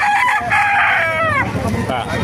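A seven-month-old Kelso gamecock crows loudly and close at a chicken market in Baliuag, Bulacan, a full drawn-out call with a rising and falling tail, over background murmur.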